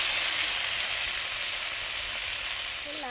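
Small prawns fry in very hot oil, a loud, steady, close sizzle that fills the whole stretch without pause or speech.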